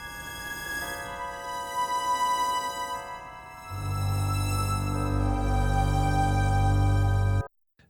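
Sparse atmospheric pad from the Novella Carbon thriller-scoring sample library, high sustained tones joined midway by a deep swelling low layer, steady and fairly loud before cutting off abruptly near the end, with no talking.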